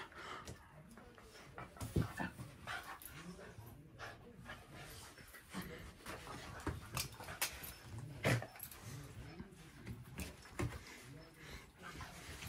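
A dog barks, growls and pants at another dog trying to join a play session indoors, in short uneven bursts at moderate distance, with a person talking over it.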